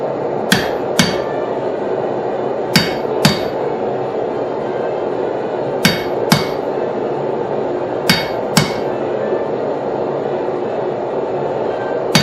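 A hammer strikes a chisel on hot steel while marking the teeth of forged blacksmith tongs: sharp metallic blows in pairs, spaced a couple of seconds apart, loud and close over a steady forge roar.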